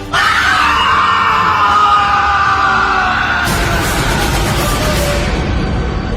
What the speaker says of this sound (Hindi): एक भयानक दर्द भरी तेज चीख पूरे जंगल में गूंजी